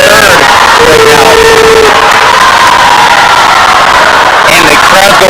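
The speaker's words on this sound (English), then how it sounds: "And the crowd going wild for these ladies here." A crowd at a college swim meet cheers and yells wildly and without a break, with whoops and whistles rising over the din and a commentator's voice heard in it.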